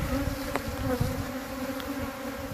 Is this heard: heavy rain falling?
no